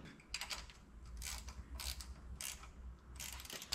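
A ratchet tightens a nut with washer on a 1961 Chevy wagon, giving repeated rapid clicking bursts, close and steady, over a low rumbling background.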